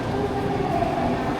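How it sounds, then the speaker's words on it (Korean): Interior of a train in Laos, with a continuous rumbling rail noise and faint tonal whine, steady and moderately loud with no speech. "이제 열차를 탑니다"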